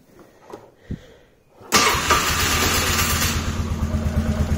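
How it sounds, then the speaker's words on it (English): Polaris Sportsman 450 ATV cranks briefly, then its engine catches at once and runs at a loud, steady idle with a rapid, even pulse. "We're going to try and crank it up and see what happens."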